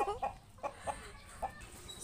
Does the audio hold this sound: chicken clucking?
yes